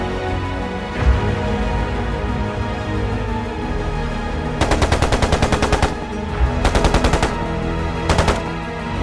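Rapid machine-gun bursts echo through a tunnel in a nuclear-fallout setting, three sharp volleys in the second half over a dense, rumbling low background, with the last burst the shortest.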